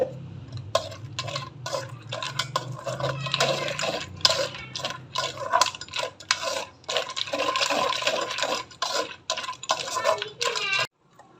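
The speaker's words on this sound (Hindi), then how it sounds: "थोड़ा सा पानी शामिल कर रही हूँ।" Water poured into tamarind and aloo bukhara chutney through a strainer set over a saucepan, a steady splashing trickle with clinks of utensils and intermittent stirring noises, close and moderately loud.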